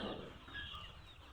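Layer hens, about forty days old, cluck together in a crowded poultry shed, a steady dense murmur of birds filling the short moment with no voices.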